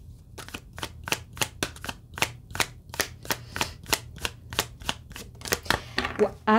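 Tarot cards riffled and shuffled in a steady rhythm of short crisp bursts, close up, with a low background hum and no talking.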